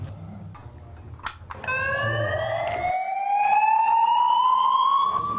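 An electronic fire alarm sounds during a weekly system test, its steady rising wail starting abruptly and holding loud and continuous.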